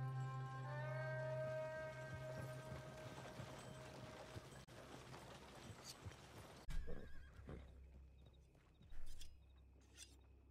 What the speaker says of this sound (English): NPC is about to steal that horse.